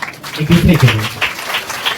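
Audience applause at the opening ceremony of Holy Family Catholic Church, Namunaghar: a steady patter of clapping runs through the clip while a voice speaks over it through a public address system.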